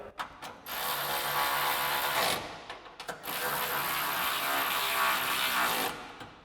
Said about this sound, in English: take your 13mm socket and tighten these down